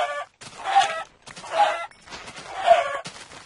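A Minecraft chicken clucks in three short bursts separated by brief pauses, clear and close with no voices over it.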